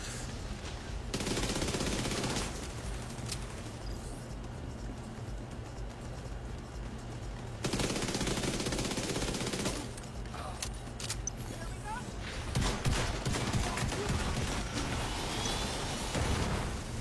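Shotgun blasts in a video game, loud bursts of gunfire recurring in clusters over dense game noise and a steady low hum, with a voice talking at times.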